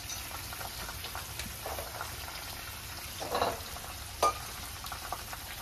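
Village chicken fries in oil alone, with no water added, in a pot on a wood-fired clay stove, giving a low steady sizzle with a couple of brief louder stirring clatters near the end.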